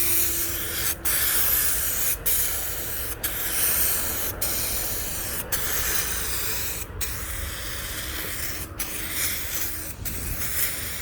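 Rattle can aerosol spraying a coat of paint onto a 1985 C4 Corvette, a steady close hiss in long passes broken by about ten short pauses.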